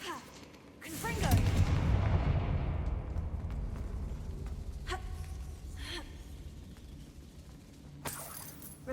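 A Confringo spell blast in Hogwarts Legacy erupts loudly as a single fiery burst, then crackles and rumbles as it slowly fades, with a few sharp impact sounds toward the end.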